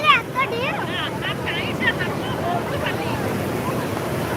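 Strong sea waves surge and crash onto the shore, a continuous roar of surf with wind buffeting the microphone, while someone talks excitedly over it.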